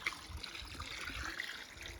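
Diluted water poured along the edge of a frame pool while its filter runs makes a soft continuous trickling splash, quiet and steady throughout with no voices.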